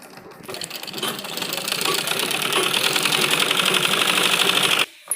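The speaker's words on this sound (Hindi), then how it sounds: "फिर इस तरह फोल्ड करके हम यहाँ पर एक सिलाई लगाएंगे" An electric sewing machine stitches a pocket on a men's kurta in one continuous run of rapid, even clatter, starting after a brief pause and stopping abruptly near the end, close and loud with no talking.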